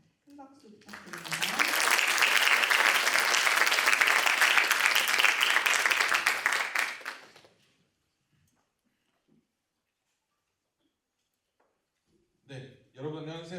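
Applause from the audience at a gifted-entrepreneur education program's completion ceremony swells into a dense, sustained clapping for about six seconds and then fades into silence. A voice speaks briefly near the start and again at the end.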